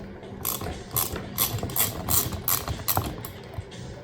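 A screwdriver loosens screws on a trolling motor, producing a steady series of close ratcheting clicks at an even rhythm.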